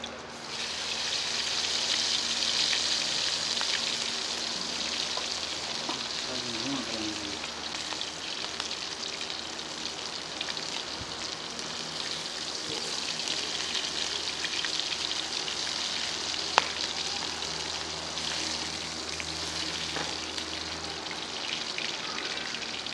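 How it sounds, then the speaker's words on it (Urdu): Chicken pieces for Saudi-style chicken mandi frying in hot oil, a steady close crackling sizzle with scattered pops, no talk. "ایک ایک کو فرائی کر کے باہر نکالتے جائیں گے"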